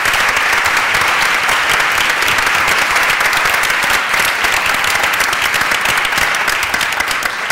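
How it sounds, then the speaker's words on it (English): Loud, sustained applause from an audience at a school board candidates forum, a dense, even clatter of clapping hands that fills the whole stretch without pause. "Please also join me in a round of applause for the families of our candidates."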